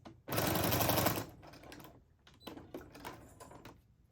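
A sewing machine stitches a sacrificial lead piece of fabric in one loud, close burst of rapid whirring, followed by quieter clicks and handling taps.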